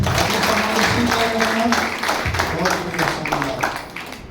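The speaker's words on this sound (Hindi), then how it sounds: "एक बार जोरदार तालियां।" Loud audience applause at a motivational sales meeting in India, sustained crowd clapping filling the whole stretch, with voices and shouts mixed in beneath the claps.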